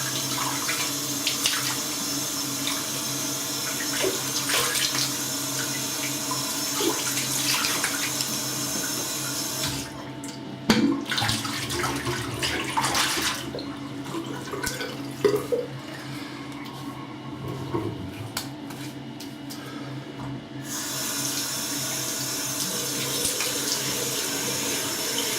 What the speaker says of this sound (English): So, a bit of cold water, back in a tick.